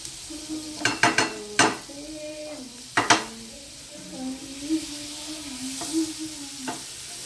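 Butter going into hot cumin seeds in a pan for a paneer dish sizzles steadily, with a few sharp spoon-and-pan clinks as it is stirred, close and moderately loud.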